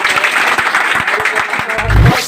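A crowd applauds with brisk, dense clapping throughout, fairly loud and close, with a brief low thump near the end.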